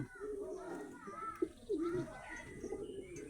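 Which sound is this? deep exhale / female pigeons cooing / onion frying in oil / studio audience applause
female pigeons cooing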